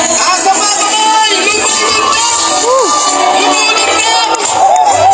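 A large church congregation at a faith walk event shouts and cheers loudly and steadily, with many overlapping voices, whoops and children's cries forming a dense, close roar, and one voice calls out over the crowd.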